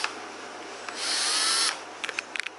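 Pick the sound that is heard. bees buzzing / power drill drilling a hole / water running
power drill drilling a hole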